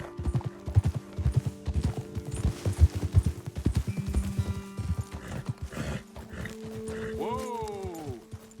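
Horse hooves clip-clop rapidly at a gallop in Red Dead Redemption 2, close and loud, slowing near the end as a horse whinnies, with voices over the ride.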